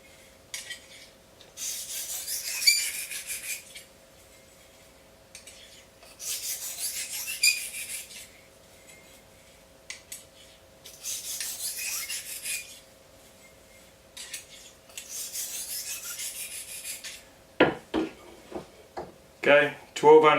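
A slicing knife drawn side to side across a 600 grit sharpening stone, giving five bursts of steady gritty rasping separated by pauses, followed by a few sharp clacks at the end.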